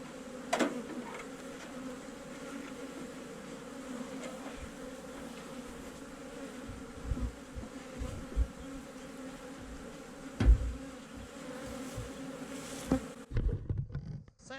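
Honey bees buzzing steadily at an opened hive, a dense close drone with occasional nearer passes and a few faint knocks and handling sounds.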